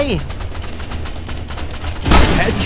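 Gunfire rings out in the Roblox Rivals shooter game as a dense, loud burst near the end, with continuous game noise and excited talk running beneath it.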